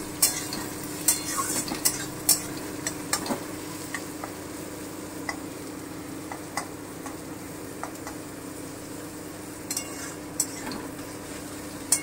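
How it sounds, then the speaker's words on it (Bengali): Onions nearly browned and lightly salted fry in a pan for an egg curry made with duck eggs, a steady close sizzle broken by a dozen or so sharp spatula scrapes and taps at irregular intervals. "এই যে পেঁয়াজটা আমার অনেকটাই ভাজা হয়ে এসেছে"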